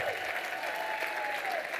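An audience at a user conference applauds in a brief, steady, dense wash of clapping at moderate distance.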